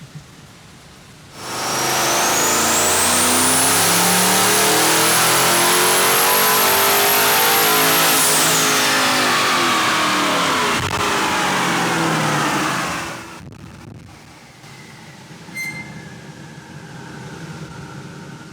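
A twin-turbo Jeep Hellion engine with drop-in pistons and rods roars through a long, loud dyno pull, its pitch climbing steadily before cutting off, then settling to a lower idle-like rumble.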